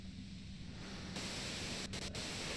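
Dense, steady white noise hisses in the Disco Elysium video game, loud and unbroken, with a brief flicker of dropouts near the end.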